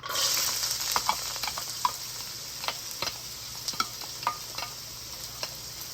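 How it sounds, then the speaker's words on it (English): Chopped onions sizzle in a little cooking oil in a hot pan, a steady bright frying hiss broken by intermittent scraping stirs and small pops, close and alone with no talking. "I've added just a little bit of cooking oil. The first thing I'm going to go in with will be these chopped onions."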